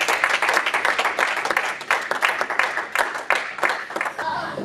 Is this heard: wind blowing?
no